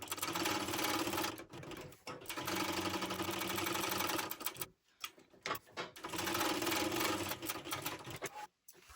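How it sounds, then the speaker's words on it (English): A sewing machine top stitching around fabric edges for a shoulder bag, running in fast mechanical bursts of rapid stitching with brief pauses between runs, close and clear, with no voices. "So basically it's top stitching all the way around"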